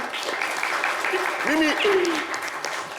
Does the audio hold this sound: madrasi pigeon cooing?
no